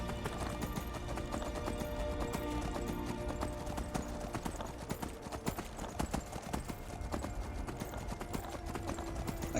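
Horse hooves clip-clopping in Skyrim, a steady galloping rhythm of hoof strikes on the ground continuing throughout, fairly loud and close, with no speech over it.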